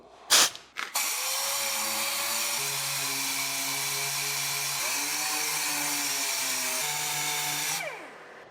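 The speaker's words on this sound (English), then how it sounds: "320 grit, that's exactly what you want to sand this stuff down with, right?" Power sanding on car body filler during a hot rod restoration, a steady high whirring drone with shifting pitch running nearly nonstop after a brief clatter at the start, loud and close, no talking.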